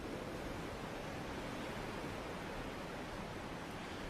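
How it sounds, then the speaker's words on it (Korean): Dense, roaring noise of high waves and strong wind at Gwangalli beach in Busan during a typhoon, a steady, broad wash with no distinct breaks. "이 보시는 것처럼 파도도 높게 치고 있는데요."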